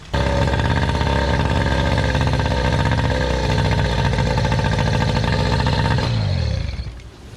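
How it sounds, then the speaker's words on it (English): A small two-stroke Yamaha outboard engine, cold and warming up, runs loudly and steadily with a buzzing, rattling tone, then cuts off near the end. "I'm going to demonstrate how to properly warm this engine up"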